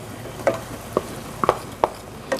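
Yogurt for mutton paya (goat trotters curry) being stirred in a pan over very low heat, with five separate spoon scrapes spaced about half a second apart over a faint, steady background, and no talk.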